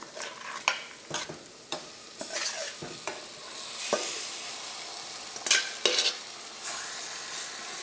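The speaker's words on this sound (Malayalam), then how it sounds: "ഈ മസാലയിലേക്ക് നമുക്ക് നമ്മൾ മാരിനേറ്റ് ചെയ്ത് വെച്ചേക്കണം മട്ടൻ ചേർക്കാം." Marinated mutton going into masala for a Kerala-style curry sizzles steadily while a spoon scrapes and knocks against the pan in repeated strokes, close up and fairly loud, with no talking.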